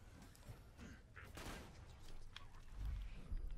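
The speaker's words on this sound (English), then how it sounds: "Gonna blow up this barrel preemptively." Gunfire hitting an explosive barrel in Borderlands 2, a few quiet shots followed by a muffled blast, with a low rumble near the end.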